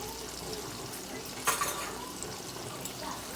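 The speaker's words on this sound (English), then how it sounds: "I'm just gonna stir it up because I'm gonna close this pot" Soft scraping and sloshing of seasoned yams being stirred in a pot, low and continuous, with a brief clink of the utensil midway.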